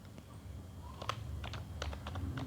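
Close, quiet tapping on a computer keyboard while HTML code is entered. A quick run of keystrokes clicks in an uneven rhythm over a soft room hum, with no voice.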